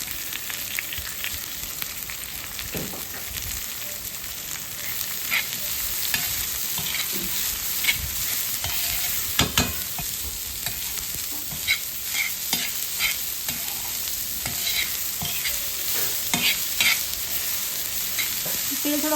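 Onion frying in oil with browned garlic for a spicy roasted eggplant bharit, a steady close sizzle broken by frequent scraping stirs and clinks of a spoon against the pan, with no talking.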